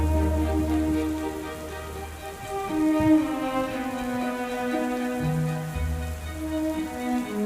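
Steady rain patters softly beneath gentle sustained music tones, with no voices.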